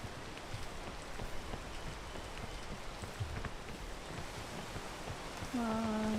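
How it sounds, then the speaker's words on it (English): Steady rain in a video game, a dense, even hiss of drops that holds at the same level throughout, with a tonal game sound rising near the end. "Oh no, it's raining."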